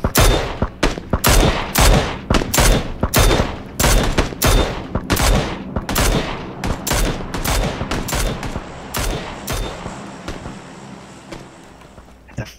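Rapid bursts of video-game gunfire from a battle-royale match, many sharp shots in quick clusters through most of the stretch, loud and close, then thinning out toward the end with no talk over it.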